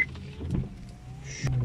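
Rear windshield wiper motor on a seventh-generation Honda Civic VTEC running with the ignition on and its wiper rubber torn loose, giving a brief close electric whirr with a faint mechanical clunk near the end.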